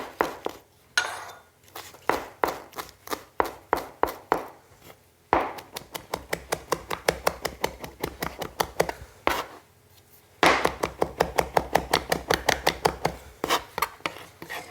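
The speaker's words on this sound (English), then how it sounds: "there's a nice way to manage the basil, is to chop it up really finely" Fresh basil chopped finely with a knife on a board: rapid, evenly spaced crisp taps in several bursts with brief pauses, close and clear, with no voices.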